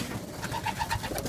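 Racing pigeons in a loft give a short run of soft, rhythmic coos, a few pulsing notes close by.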